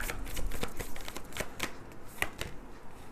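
Tarot cards being shuffled in a steady run of crisp riffling bursts, close and fairly loud, with no speech over them.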